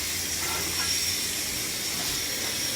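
Frozen shrimp boil in a pan on a stove, giving a steady, even hiss of steam and bubbling that stays constant throughout.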